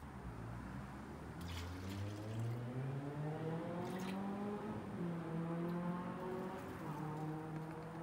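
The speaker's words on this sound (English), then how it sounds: "that car going down there sounds horrendous." A car engine drones steadily nearby as the car drives past outside, its pitch climbing and shifting as it accelerates, with a faint wet hiss in the background.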